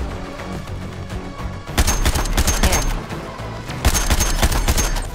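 Rapid automatic gunfire erupts in the video game Suicide Squad: Kill The Justice League during a boss fight against Brainiac, two loud, sustained bursts of crackling shots following a quieter lead-in.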